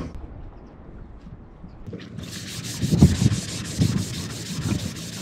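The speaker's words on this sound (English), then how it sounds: "wet sanding." Wet sanding on a sailboat transom, a hissing rubbing stroke that starts abruptly and continues with rhythmic scrubbing pulses and occasional knocks, close and steady.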